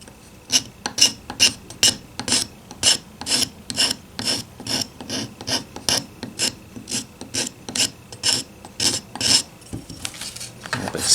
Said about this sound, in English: A little whittling knife.